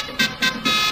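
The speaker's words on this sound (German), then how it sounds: "jetzt scheint es so, als würde so ein Trecker dann doch mal seine Hupe anmachen" A tractor horn at a carnival parade gives three loud, short honks in quick succession, each a bright, tonal blast.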